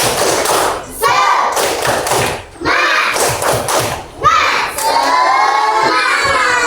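Children shout a rhythmic chant together with loud clapping thumps in bursts, brief pauses between phrases, a lively classroom group close by.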